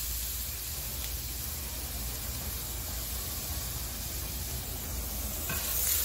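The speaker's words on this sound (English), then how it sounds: "just sauteing it." Ginger and green chili sauteing in an electric pan, a steady soft sizzling hiss that continues evenly throughout, fairly quiet and without talking.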